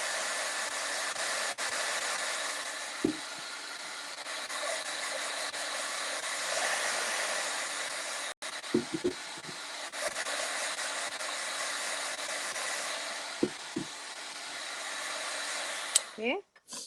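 A hair dryer blows steadily to dry a craft mason jar, a continuous close whooshing roar running for the whole stretch, briefly cut off once, with a few soft knocks and handling sounds before it shuts off at the end.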